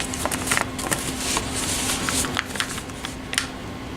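Paper bags for a junk journal get folded and creased by hand, a continuous papery rustle with soft crinkles and small taps, close and fairly loud throughout.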